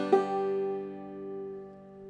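Clawhammer banjo, an open third string plucked followed by a brush thumb, a single bright twang that rings and slowly decays, close and fairly soft.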